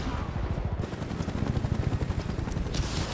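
Gunfire strikes the player character in a video game: a dense, rapid run of sharp cracks and thumps, fairly loud and steady across the moment, with a brief hiss near the end.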